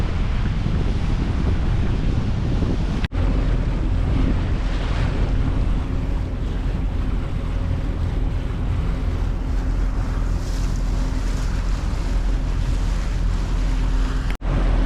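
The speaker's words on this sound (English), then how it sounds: "Takes those waves pretty well." A fairly heavy cruising boat runs at speed through choppy waves in the Thousand Islands, with a constant loud rush of water and engine rumble buried under strong wind buffeting the microphone.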